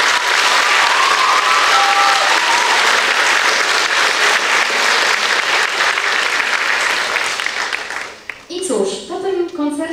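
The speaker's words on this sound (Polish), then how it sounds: "Chciałabym teraz ogromne brawa dla wszystkich tatusiów." A concert audience claps loudly and steadily for several seconds, the applause thinning near the end as a voice begins speaking.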